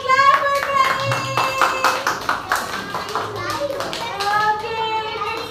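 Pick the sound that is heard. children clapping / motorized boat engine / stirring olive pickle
children clapping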